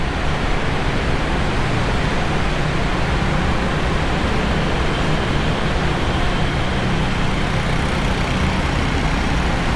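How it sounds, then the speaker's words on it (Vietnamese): Very large ventilation fan motors inside a road tunnel leading to Saigon's District 1 produce a loud, unbroken broadband roar, blended with traffic rumble and constant from start to end. "Những cái motor rất là lớn, như là những cái motor của máy bay"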